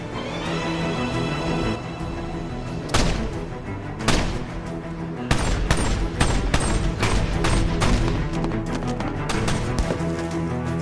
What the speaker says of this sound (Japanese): 俺の銃声が合図だ。 とにかく撃ち続けろ。